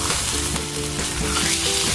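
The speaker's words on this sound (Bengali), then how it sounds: "এখন মাছটা হয়ে গেছে ভাজা" Salmon fish frying in a pan in a home kitchen, giving a loud, dense, continuous sizzle that holds steady throughout with faint stirring beneath and no voices.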